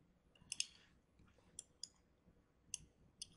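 A computer mouse clicks in a quiet room: a few crisp, close clicks, some in quick pairs, spaced irregularly over faint background hiss.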